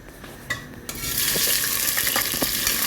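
Tomatoes and garlic sautéing in a pan for Ilonggo-style putsero, starting with a few faint clinks, then a loud, steady sizzle with stirring scrapes close by.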